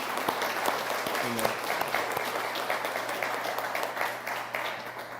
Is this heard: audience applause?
yes